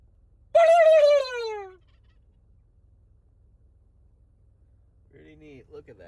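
A wild turkey in open country gives one loud, rattling gobble that falls away over about a second, followed by quiet and then a faint, farther-off call or murmur near the end.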